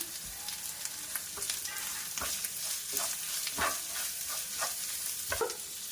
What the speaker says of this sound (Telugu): ఇవన్నీ కొంచెం ఫ్రై అయ్యేదాకా వేయించాలి